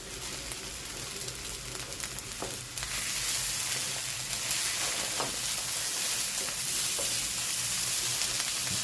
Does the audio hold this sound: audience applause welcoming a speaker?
no